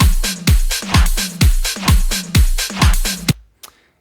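Ableton drum beat run through a Drum Bus compressor with overdrive and saturation: punchy, heavy kicks and crisp snare-like hits in a steady loop of about seven beats, loud and close, cutting off with a short tail.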